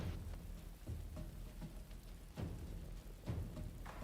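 Steady rain pours in a Divinity: Original Sin 2 game scene, a dense, continuous hiss with soft low rumbles and occasional heavier gusts, fairly loud and with no one talking.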